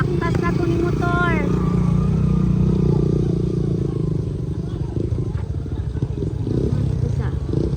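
A motorcycle engine runs steadily and loudly through the whole stretch as a teacher rides home after class, with a low rumbling drone, some clatter, and voices talking faintly underneath.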